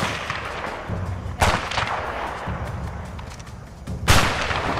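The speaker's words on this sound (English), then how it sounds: "It's probably a 50 cal." Heavy .50 caliber gunfire in the video game A Way Out comes as two loud, sharp cracks about three seconds apart, each trailing off into a rumbling echo over a noisy battlefield background.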